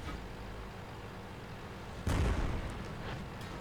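A 105 leFH18B2 artillery piece fires in a video game: a single sudden boom jumps out of a steady low battle rumble and decays over about a second, with faint later crackles.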